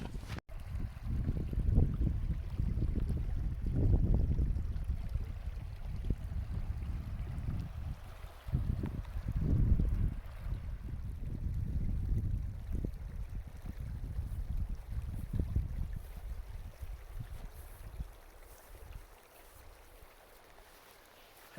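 A creek beside a backpacking trail on the Buffalo Peaks Loop rushes steadily, a continuous low, rumbling wash of flowing water that is near and moderately loud, easing slightly toward the end, with no talking.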